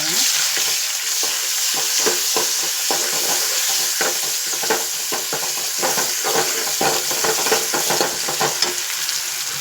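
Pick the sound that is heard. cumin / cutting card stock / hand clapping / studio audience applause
cumin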